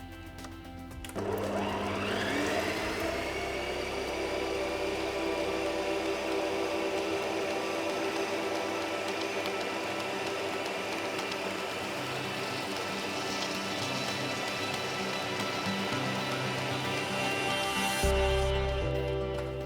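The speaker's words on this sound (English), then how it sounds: "First I'm going to turn the machine to a medium speed and then we'll use the pusher to push the meat through." Kenwood MultiOne mincer running at medium speed while meat is pushed through it, a steady loud motor whine with a grinding drone that holds for nearly twenty seconds before shutting off.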